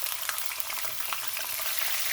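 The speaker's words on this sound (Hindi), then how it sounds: "ये थोड़ा सा हल्के से भून लूँ, फिर उसके बाद ये लहसुन, प्याज, हरी मिर्च जो ग्राइंड की हुई है" Ground garlic, onion and green chili fry in hot oil with a steady, crackling sizzle, close up and continuous, with no talking.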